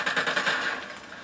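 Rapid automatic gunfire rattles in Call of Duty Ghosts, a quick burst of evenly spaced shots that tails off, loud and close with no talk over it.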